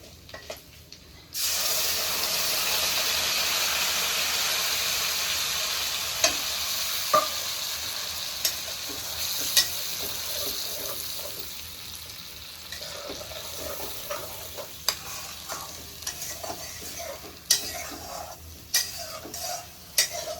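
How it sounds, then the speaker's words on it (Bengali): Onion paste sautéed for a shrimp malai curry sizzles and fries in a pan after an abrupt start, a steady hiss broken by occasional scrapes and clicks of stirring, with no talking. "এটা আমি পেঁয়াজটা কষে নিয়েছি"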